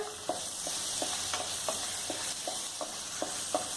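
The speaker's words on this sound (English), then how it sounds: "next goes the temperings, bay leaves, cinnamon stick, cloves and cardamoms. Let them splutter." Bay leaves, a cinnamon stick, cloves and cardamom splutter in hot fat in a pan for butter chicken, giving a continuous sizzle broken by sharp, scattered pops and crackles at close range.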